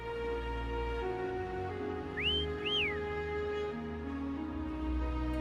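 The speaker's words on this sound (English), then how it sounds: "Try whistling." Whistling to call a horse in the video game Wuthering Waves: two short rising-then-falling whistles, the second a quick double tone, clear over a soft sustained musical background with no talk.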